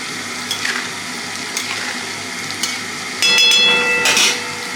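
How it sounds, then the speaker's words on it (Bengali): Egg curry cooking in a pan, a light stir with a utensil scraping over a steady bubbling simmer, with a sharper metallic clink near the end, nearby and with no voices. "নাড়িয়ে দিই হালকা করে।"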